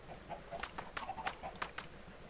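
Chickens in a barn in Minecraft give short clucks and squawks, several overlapping calls in an irregular rhythm, moderately quiet and without talk.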